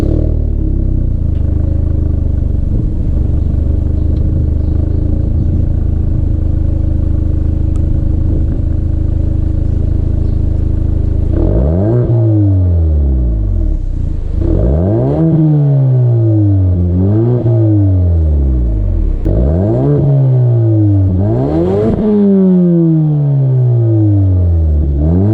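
A car's 2.3-litre four-cylinder engine idles steadily, then is revved several times in quick succession, each rise and fall of the engine note loud and close.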